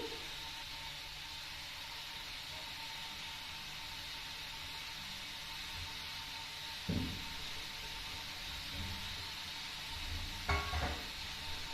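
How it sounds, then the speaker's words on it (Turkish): Oil heats in a frying pan for menemen, giving a faint, even hiss of sizzling throughout, with a couple of soft knocks near the end. "Tavamın içine birazcık yağ atacağım."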